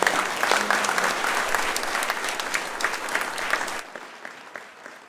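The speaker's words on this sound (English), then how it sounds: "I think that's a round of applause." Audience applause at a high school prize giving evening, dense sustained clapping that carries for almost four seconds and then fades quickly to quiet.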